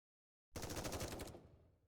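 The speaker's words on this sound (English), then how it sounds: "I listen closely to catch the faint sound of gunfire in the distance" A short burst of rapid automatic gunfire in a video game, dense and loud, fading quickly after about a second.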